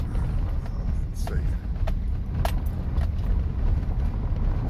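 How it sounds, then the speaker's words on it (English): A Chevrolet Silverado pickup rolls at about 22 mph over a rough historic stretch of the Dixie Highway, with a steady low cabin rumble and scattered rattles and clunks from the bouncing truck, while someone talks over it. "I'm in a Silverado that's bouncing all over the place"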